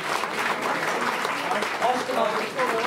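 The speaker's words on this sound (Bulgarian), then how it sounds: "моля ви, аплодирайте нашите музиканти" A concert audience applauds the musicians with dense, steady clapping that carries through the whole short stretch at an even level.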